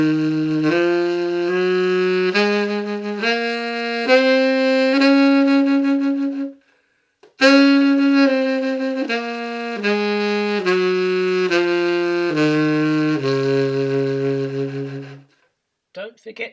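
A tenor saxophone plays a slow practice scale, one sustained note after another in even steps, running up and back down, then after a short pause repeating the pattern, loud and close with no voices.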